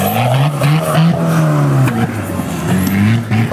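A Suzuki Vitara 4x4 roars loudly through a timed off-road race at Hruštín, its engine revving and pulling hard and steady, with the pitch shifting as the car accelerates and skids across the course.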